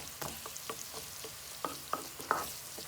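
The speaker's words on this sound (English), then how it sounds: "so I'm going to fry the carrot only first" Carrots stir-fried alone in a pan as the first step of pineapple fried rice with prawns: spatula scrapes and taps clack in a steady scattered rhythm over a faint sizzle, close and moderately quiet.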